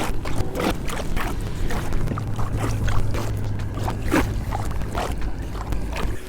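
A kayak is paddled back across the water, with repeated watery splashes and strokes over steady wind and water noise, close to the microphone.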